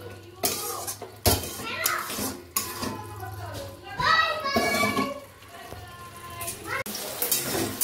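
Potatoes and spices fried and stirred in a pan, with scraping and clinking of a utensil against the metal at irregular intervals, fairly close, while voices murmur in the background.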